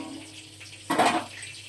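Water is poured into a pan of cooking katla fish curry in one brief splashing gush lasting about a third of a second, close by, above a low steady background hum.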